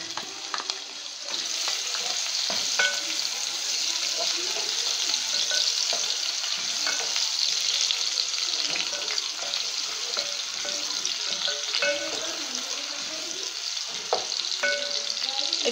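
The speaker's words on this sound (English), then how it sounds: "in my pot, I'm gonna put my red onions with my garlic" Red onions and garlic frying in a pot, a steady bright sizzle that continues throughout with occasional stirring clatter and faint background noise.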